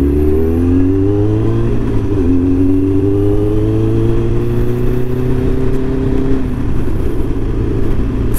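A Kawasaki ZX9R Ninja motorcycle being ridden on a road near Kamloops gives a loud, steady engine drone heard close up, with its pitch rising and falling as it shifts and changes speed.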